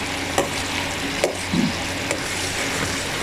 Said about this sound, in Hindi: इसमें से इसके बब्बल बन गए हैं